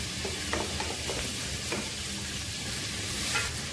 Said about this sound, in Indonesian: kemudian tumis si bumbu iris dari cabai, bawang putih, bawang merah yang udah diiris